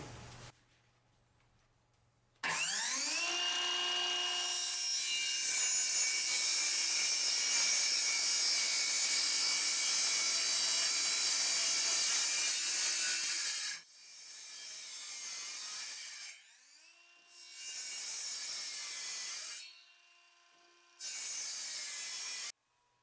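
A handheld circular saw spins up to a loud, high whine and cuts through wood along a marked line for a workshop shelf, holding one long pass before several shorter bursts of cutting with brief pauses between them.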